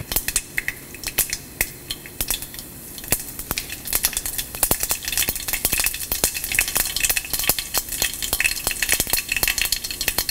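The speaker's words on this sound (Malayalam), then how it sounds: "ഒരു ഫ്രൈയിങ് പാനിലോട്ട് 1 ടേബിൾ സ്പൂൺ വെളിച്ചെണ്ണ ഒഴിച്ച് ചൂടായി കഴിയുമ്പോൾ കടുകിട്ട് പൊട്ടിക്കുക" Mustard seeds pop and splutter in hot coconut oil in a frying pan, a dense run of sharp crackles and snaps over a steady frying hiss, close and continuous.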